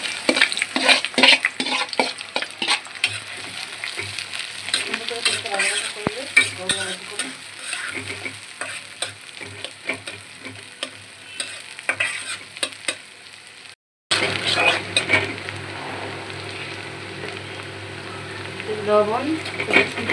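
Onion and garlic frying in hot oil in a heated wok (kadai), a loud continuous sizzle with the scrape and clatter of stirring. A brief silent break falls near the end before the frying resumes.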